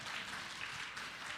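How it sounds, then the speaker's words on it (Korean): Round of applause from a church congregation at a Sunday service, dense steady clapping from many hands filling the room throughout, with no voices on top. "that round of applause was for you"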